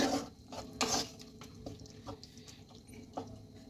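Water poured into a cooking pan of butter chicken in progress: a loud splashing gush near the start, then softer trickles and drips tapering off close by.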